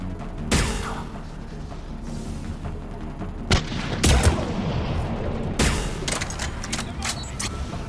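Gunfire in the video game Mass Effect 3, with loud bursts and booming shots over a continuous roar of battle, plus several sharp impacts scattered through the fight.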